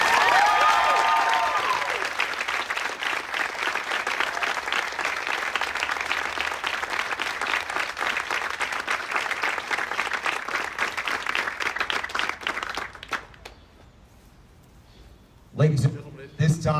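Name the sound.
audience applause for graduating Sports Fellowship class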